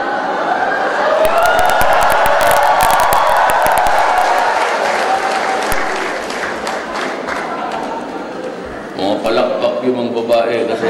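Women in the audience at a Filipino community gathering in Seoul clap together in sustained applause, loud and dense, mixed with crowd voices, cheering and laughter.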